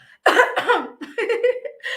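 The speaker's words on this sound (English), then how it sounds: "Elbow cough." A short burst of coughing into an elbow, a few harsh bursts in quick succession, close and fairly loud with no talking, during a conference.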